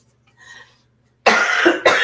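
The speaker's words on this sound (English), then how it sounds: "I am coughing into my shoulder" A woman in a home kitchen, making biscuits, gives two sharp, close coughs in quick succession, muffled into her shoulder, after a near-silent pause.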